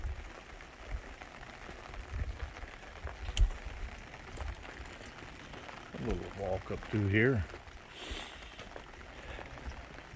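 Steady light rain patters on surfaces throughout an outdoor walk, with a person briefly speaking over it partway through.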